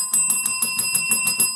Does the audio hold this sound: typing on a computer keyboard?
no